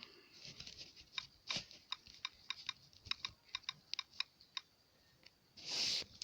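Someone types on a computer keyboard at close range, producing a run of crisp, irregular key clicks, followed by a brief louder rustle at the end.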